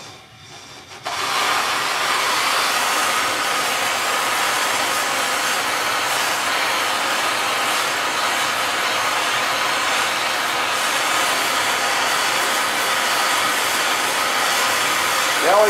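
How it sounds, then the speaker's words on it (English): Gas torch flame heating metal during a Lincoln TIG welder project, a loud steady roaring hiss that starts abruptly after a second of quiet and holds unbroken, close by. "now I'm gonna heat it up. Let me get my torch."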